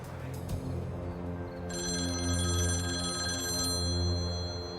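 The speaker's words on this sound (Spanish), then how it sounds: "el señor Portela recibió varias llamadas" A telephone rings with a steady electronic trill over a low background hum, the ring continuing for several seconds.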